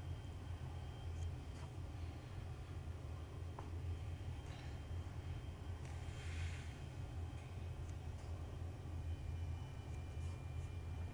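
Small airplane engine throttled back during a landing approach over the runway, a steady low drone that runs the whole time without a break, with faint wind noise over it and no talk.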